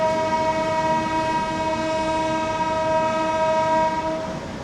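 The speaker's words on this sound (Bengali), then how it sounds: "এটা এলো এখানে, ট্রেন ছাড়লো" A passenger train on the Vizag to Kolkata route via Titlagarh pulls away, its long horn blast holding steady and loud over the low rumble of the carriages.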